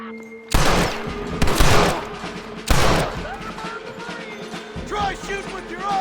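Gunfire in Red Dead Redemption: three loud, sharp shots about a second apart, each with a booming tail, followed by quieter ringing tones and scattered background game noise.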